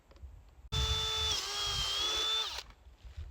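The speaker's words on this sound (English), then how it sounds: "drill a hole in the cover on the side" A power drill whirs steadily for about two seconds with a high whine, drilling a hole in a plastic bucket lid, starting and stopping abruptly, close by in an otherwise quiet room.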